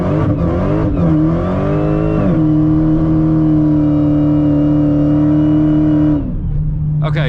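An 888 hp Dodge Hellcat XR widebody in sport mode accelerates at full throttle from first gear, its engine roaring loud and close with a rising pitch, a sharp gear change and then a long sustained pull.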